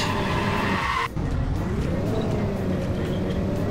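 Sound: car doing donuts and skidding in Minecraft, video game

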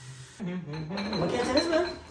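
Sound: dishes clinking while unloading a dishwasher

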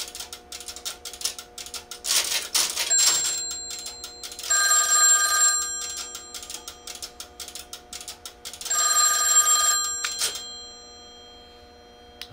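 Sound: extension ringing on OKI AC125A crossbar PBX

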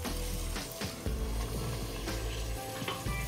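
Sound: spiced stuffed eggplant masala sizzling in a pan

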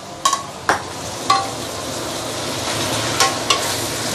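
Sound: rice noodles stir-fried in a wok for char kuay teow

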